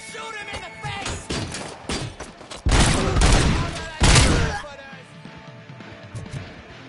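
Gunshots from a RoboCop video game come in loud bursts of rapid fire, with two heavy volleys standing out amid game voices and shouted speech.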